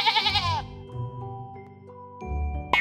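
A sheep lets out a single short, wavering bleat, loud and close, before it gives way to gentle sustained musical tones.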